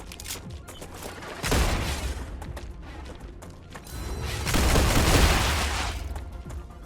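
Rapid pistol fire in the sci-fi shooter StarRupture comes as quick clusters of sharp shots, two louder bursts standing out over busy game noise, with no voices.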